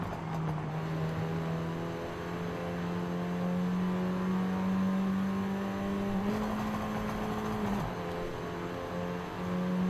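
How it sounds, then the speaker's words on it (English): A 2009 Mini John Cooper Works engine climbs a mountain road in Forza Horizon 5, a steady droning hum that holds its pitch and rises slightly as the car accelerates, with a brief gear-shift dip near the end. "What better way to test this Mini Cooper than up the mountain?"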